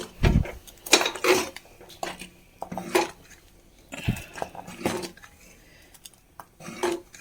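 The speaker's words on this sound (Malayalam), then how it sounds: "അരപ്പ് ചേർത്ത് കൊടുത്തിട്ടുണ്ട് അതൊന്ന് തിളച്ചോട്ടെ" A ladle stirs ground coconut paste into a curry pot, making intermittent metallic clanks, scrapes and knocks against the pot, close and fairly clear.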